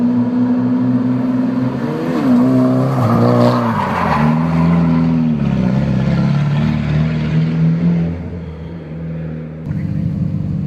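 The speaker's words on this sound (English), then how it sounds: "we were able to see some real drifting on the Touge" Cars drift along a Japanese mountain touge road at Happogahara, engines revving hard and rising and falling in pitch as tires squeal through the corners, loud and close throughout.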